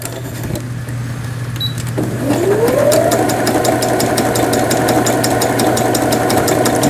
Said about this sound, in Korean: 옷감의 가장자리가 풀리지 않도록 해주는 오버록 바느질이 되겠습니다